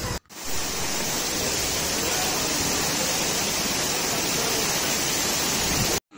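A mountain waterfall beside the road to Sonprayag roars as a dense, loud, unbroken rush of falling water, close and steady throughout.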